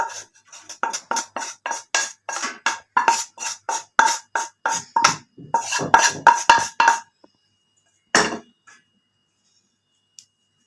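Roasted gram flour is sifted into a vessel for thirupagam sweet, making a brisk series of sharp, rhythmic tapping clinks that stop abruptly, followed by one last isolated tap and then quiet.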